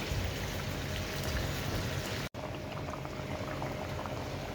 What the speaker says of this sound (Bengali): শুধু আমটায় 5 মিনিট সিদ্ধ করবো